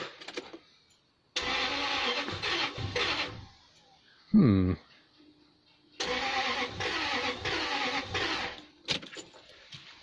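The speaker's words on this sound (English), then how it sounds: "let's have a second go at starting the lovely Lexus" A Lexus LS400 with a dead tensioner and suspected ignition trouble is cranked twice, each time a long, close starter churn that doesn't catch, with a brief whirring tone and a murmur between attempts.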